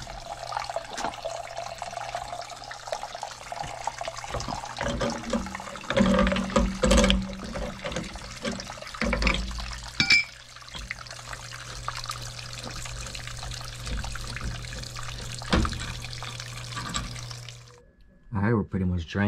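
Water drains from a gas water heater tank with steady running and splashing, mixed with clanks and handling noises from nearby work. A person talks at times.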